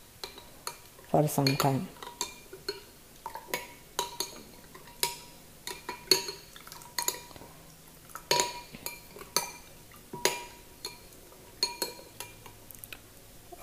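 Almonds stirred into milk in a bowl, giving repeated clinks and scrapes of a spoon against the dish in an irregular rhythm, close and fairly clear, with brief speech.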